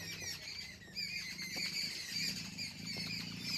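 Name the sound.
birds chirping in trees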